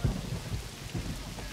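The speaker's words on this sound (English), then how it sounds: "The storm was coming right at them." Thunderstorm closing in during a storm chase, with steady rain hiss and deep rolling thunder rumbles swelling in the low end, fairly loud and continuous with no voices.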